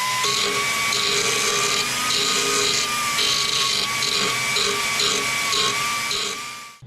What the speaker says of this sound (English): I'm just going to dab it with the old belt grinder.